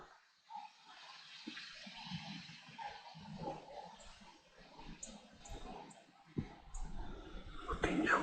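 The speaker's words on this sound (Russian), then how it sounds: "Дамба шумит, недалеко совсем дамба, поэтому заранее извиняюсь за звук." Continuous rushing water from a nearby dam roars in the background beside a carp-fishing spot, fairly close and steady, with someone talking quietly over it and occasional clicks.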